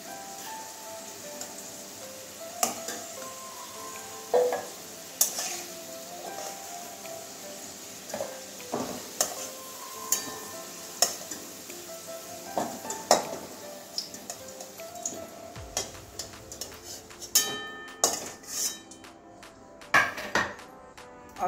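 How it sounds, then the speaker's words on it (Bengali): Potato pieces frying in oil in a pan while being stirred with a utensil, with clinks and scrapes of metal against the pan recurring irregularly over a steady background sizzle. "আলুটা লাল লাল করে ভেজে নেব।"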